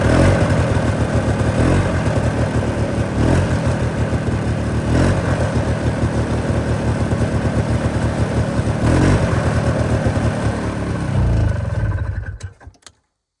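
A 46-year-old Ski-Doo Tundra snowmobile engine runs loudly and steadily on its primer, a rough two-stroke drone with slight pulsing that abruptly dies away near the end.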